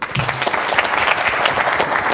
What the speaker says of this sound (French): Vous pouvez vous applaudir quand même.